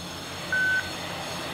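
A GB3NL amateur radio repeater answers with one short, clean electronic beep, a steady tone lasting about a quarter second over faint static hiss.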